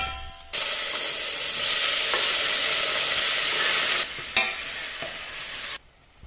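Crushed garlic and chopped tomatoes fry in a tablespoon of oil in a 3.1 liter stock pot for rasam, a loud continuous sizzle that stops abruptly, with a brief clatter near the end.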